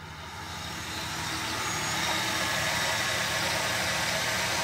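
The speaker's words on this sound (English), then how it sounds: "It's a slant six, what do you expect? Smoothest running engine ever made." A 1974 Dodge Dart's slant-six engine idles steadily and smoothly after five years of sitting, a close, continuous mechanical hum with an even low rumble and no talking.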